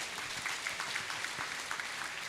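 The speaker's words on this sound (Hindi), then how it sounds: "जोरदार तालियां एक बार" Loud applause from a motivational session audience of JEE and NEET aspirants, a steady dense patter of clapping sustained throughout with no voices.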